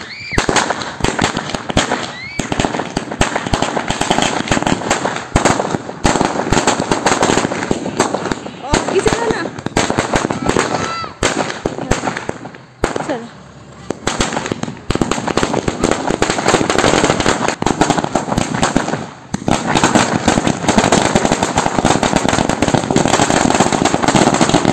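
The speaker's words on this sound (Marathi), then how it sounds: "घरच्यांनी त्यांचे फटाके फोडून स्वागत केले" Firecrackers burst in rapid, loud crackling strings to welcome people home, with dense pops and bangs nearly nonstop and a brief lull midway, while voices are heard in the background.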